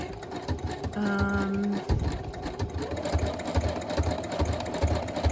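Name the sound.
sewing machine stitching a writing board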